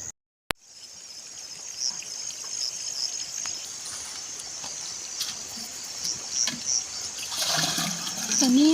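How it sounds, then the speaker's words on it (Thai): Water sprays steadily from a hose onto young vegetable and herb plants outdoors, a continuous hissing splash that starts abruptly and runs throughout, with a brief voice near the end. "ตอนนี้ไปหดน้ำใส่ผักหอมแล้วเด้ไปหดนำกันเด้อทุกคน"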